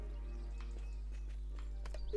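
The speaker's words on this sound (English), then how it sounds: "That horse we can use." Horse in the video game Bless Unleashed, short clip-clop hoofbeats and a faint whinny over a steady low game hum.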